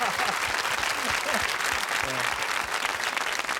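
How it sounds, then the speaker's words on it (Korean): Studio audience applauding for comedian Lee Yong-sik on a Korean military-themed TV variety show, steady dense clapping throughout with a few voices speaking over it. "이용식 씨를 위해서 박수"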